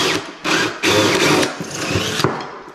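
Bursts of a whirring power drill biting into metal parts of a VW T4 spare wheel carrier, several short runs separated by brief pauses, loud and close.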